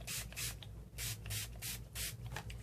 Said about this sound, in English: I'm using Dilutions watercolor spray